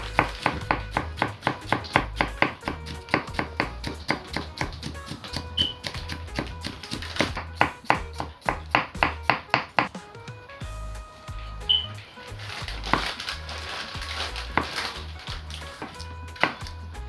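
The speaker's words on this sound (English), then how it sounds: "Then I go ahead and I chop." Knife chopping onion and scallion on a cutting board while preparing Jamaican stew peas, a fast run of sharp, evenly spaced close taps with brief pauses, then more bursts of quick chopping.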